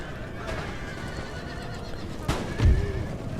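A horse neighs loudly near the end of a busy Empire: Total War battle, over a constant rumble of hooves and combat noise, with no clear talk.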